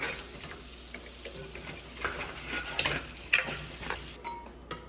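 Potatoes frying in spices in a pan, a soft, quiet sizzle with occasional stirring clicks and scrapes, heard alone without talk.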